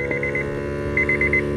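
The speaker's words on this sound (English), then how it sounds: "That's the brake being applied." A Roadmaster flat-tow brake system presses the brake pedal of a car towed behind an RV: two short bursts of rapid electronic beeping sound over a steady, close mechanical hum.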